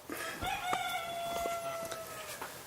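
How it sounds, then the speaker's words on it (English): A young rooster crows once in a thin, wavering, drawn-out call at a distance, with quiet outdoor background around it. "You hear our young rooster out there cackling away."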